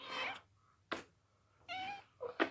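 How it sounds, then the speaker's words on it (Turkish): A mother cat meows close by, three or four short, separate calls with quiet gaps between them. "Anne kedimiz"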